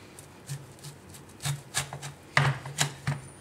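A knife cuts through the fibrous central core of a jackfruit, producing a series of short rasping scrapes and chops, close and irregular, growing a little busier toward the end.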